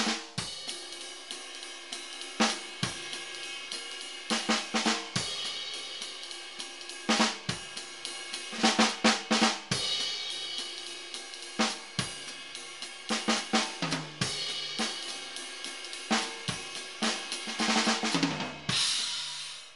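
A rock-style drummer plays a swing pattern on a drum kit, with loud cymbal washes and sharp snare and bass drum accents hitting in an uneven, heavy rhythm throughout, close and alone.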